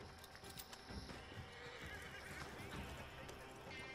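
In Red Dead Redemption 2, a horse whinnies while its hooves clatter, the game sounds busy and layered with a shrill neigh and scattered hoof beats over other in-game noise.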